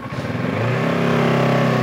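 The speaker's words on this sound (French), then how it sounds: "on se retrouve aujourd'hui au guidon de cette Versys 650" Kawasaki Versys 650 trail motorcycle engine running and revving up, a steady loud mid-size twin drone that rises and holds, close by with no talking.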